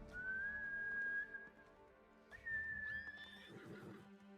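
Horse in a video game neighing twice, each a high whinny trailing down, with faint snorting and hoof-like thuds after the second call, quiet and clear.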